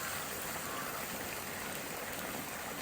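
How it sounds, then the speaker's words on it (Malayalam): Hot boiling water pours steadily into roasted semolina, a continuous close rushing splash with no break. "അതിലോട്ട് നമുക്ക് 3 കപ്പ് നല്ല ചൂടുവെള്ളം ബോയിലിംഗ് വാട്ടർ ഒഴിച്ചു കൊടുക്കണേ."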